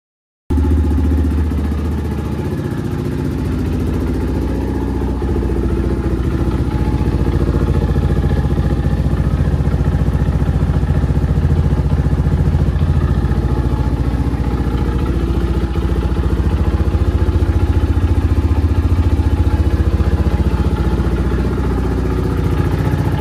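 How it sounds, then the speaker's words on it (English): A KTM 520 MXC dirt bike engine idles steadily close by, a low, even thumping rumble with some mechanical clatter that holds for the whole stretch with no talking. "Next day, we got this thing running. Well, you saw that it's idling"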